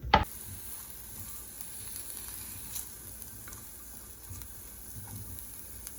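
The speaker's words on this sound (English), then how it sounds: "I'm gonna let these saute together for like a minute" Garlic and onions sautéing together in a pan make a soft, steady sizzle. A sharp knock opens the sound, and faint scattered clicks of stirring follow, with no talking.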